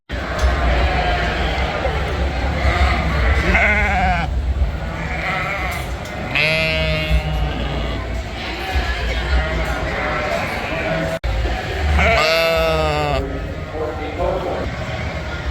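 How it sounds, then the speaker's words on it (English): Sheep bleating at the Ohio State Fair sheep show, wavering calls rising over a steady crowd and fairground murmur, with several bleats in a row at moderate distance. "They literally just sound like people making imitation sheep noises."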